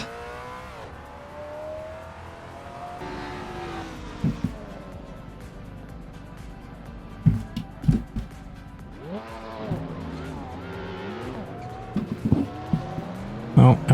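A Ford Mustang Mach 1 lapping Oulton Park on a track day, its engine note rising and falling through the final sector, with brief tire squeals and sharp bursts over a steady mechanical roar while a voice speaks intermittently.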